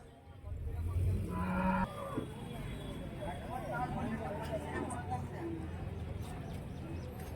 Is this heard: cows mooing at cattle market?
yes